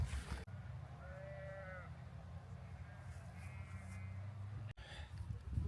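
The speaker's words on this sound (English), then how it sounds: "There's also some sheep." Sheep bleating a few times on open coastal ground near John O'Groats, two or three calls rising over a steady low rumble of wind and a running engine, moderately close.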